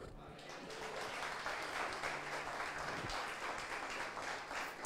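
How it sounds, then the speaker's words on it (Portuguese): A church congregation applauds during a service, with dense steady clapping filling the room and a faint voice underneath. "Em nome de Jesus, você pode dizer amém aplaudindo a Ele."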